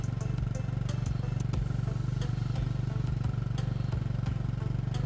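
A grass chopper powered by a motorcycle engine runs steadily close by, a throbbing low idle with a continuous rhythmic rattle and faint clatter, loud and unbroken, no voices.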